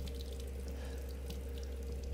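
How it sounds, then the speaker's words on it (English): A water tap runs steadily in the horror game Resident Evil Village, giving a continuous close splashing flow over a low background hum, with no speech. "we got running water though"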